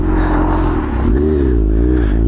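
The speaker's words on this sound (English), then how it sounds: "74 Stingray bored out engine" A 1974 Corvette Stingray with a bored-out rebuilt engine revs loudly and close by, a deep throaty roar that rises and dips through a couple of throttle blips, with no talk over it.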